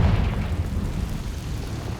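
Confringo blasting spell cast in the video game Hogwarts Legacy, a deep rumbling explosive boom that starts loud and decays into a sustained low roar over about two seconds, no voices.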